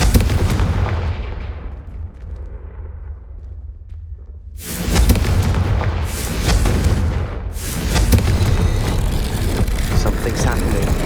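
Confringo blasting spell explosions in the video game Hogwarts Legacy, loud booming blasts in quick succession amid dense battle noise and game music, with a voice calling out over them.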